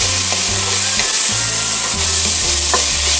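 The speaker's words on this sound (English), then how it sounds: "Give a a quick mix in the pan." Garlic and onions sizzle loudly in a hot pan while a utensil stirs and scrapes them, a continuous close frying hiss with rhythmic knocks of mixing.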